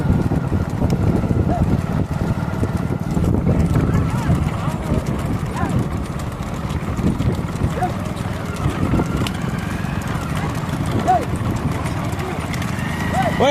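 Cattle hooves pound the ground during a small bullock cart race in Ilavelangal, Tamil Nadu, a dense rumbling patter under constant crowd noise and shouted talk.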